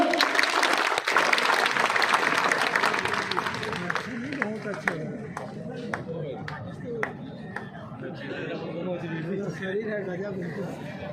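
An audience at a factory safety-week street play at NTPC Mouda claps loudly at first. The applause thins over several seconds into scattered single claps as people talk over it.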